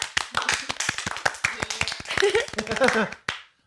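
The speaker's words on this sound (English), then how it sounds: "Clap for me. Clap!" A small group claps hands in a studio, with sharp irregular claps scattered through the clip, mixed with brief chatter and laughter, ending abruptly.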